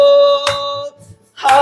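Two sharp hand claps ring out during a Korean church Sunday morning worship song, the first cutting into a sustained musical tone and the second landing after a short lull.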